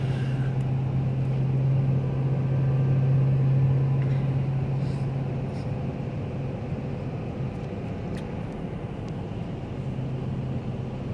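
A repairable salvage 2018 Jeep Grand Cherokee Trackhawk engine runs at light, roughly quarter throttle, a fairly quiet, steady drone with a constant hum in the first half, heard alone.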